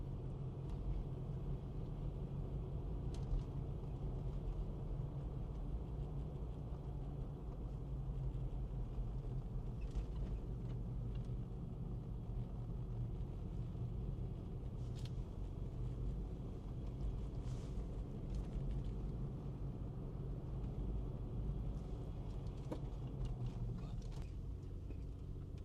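A car drives up a road away from town buildings in East Boise, Idaho, heard as a steady, close interior engine and road rumble that holds for the whole stretch with no talk.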